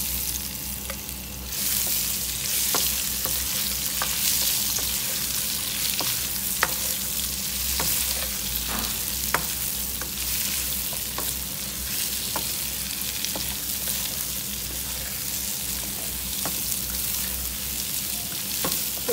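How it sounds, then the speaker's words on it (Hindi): Ingredients for mango chutney fry in a pan with a loud, steady sizzle, punctuated by light clinks and scrapes of stirring, heard close with no speech. "तो 2-3 मिनट के लिए इसको ऐसे ही फ्राई करना है।"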